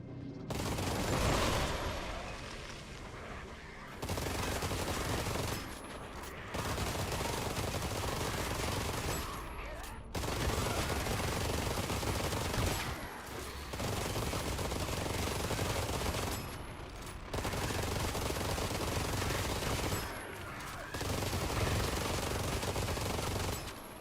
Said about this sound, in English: if you just use an auto clicker, you can get an SMG that fires faster than the default SMG